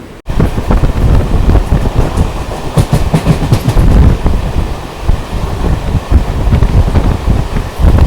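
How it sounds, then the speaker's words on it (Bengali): A Bengali local train on the Sealdah–Bangaon line pulls away from Bamongachhi station, its carriage rumble and clickety-clack loud and continuous throughout, with wind buffeting the microphone. "আমাদের ট্রেনটা কিন্তু এখন বামনগাছি স্টেশন থেকে ছেড়ে দিল"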